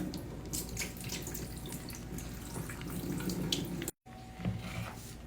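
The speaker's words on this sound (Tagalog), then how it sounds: "Drain natin yung tubig." Water runs from a tap into a kitchen sink as salt-soaked food is drained and rinsed, a soft steady splashing stream with a brief break near the end, close and quiet.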